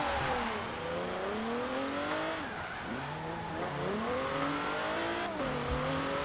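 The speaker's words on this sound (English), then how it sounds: "In this case, the ice strip drag race." Several cars in a Forza Horizon 4 ice strip drag race accelerate hard together, engines revving and rising through gears with repeated shift drops, loud and continuous with tire noise.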